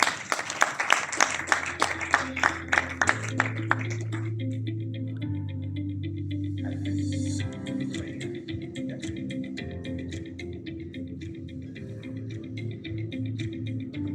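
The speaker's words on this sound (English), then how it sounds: "A big round of applause." At an industrial conclave, the audience welcomes a panelist with brief clapping. Sharp, rhythmic claps lead in the first few seconds, then give way to low sustained musical tones with faint ticking and a lingering murmur.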